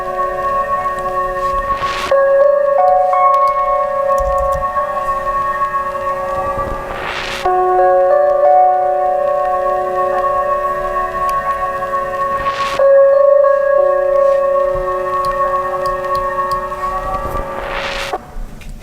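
A mellow lofi hip hop arrangement plays back with sustained tonal chords and soft, evenly spaced hits roughly every five seconds, steady and close with no talking.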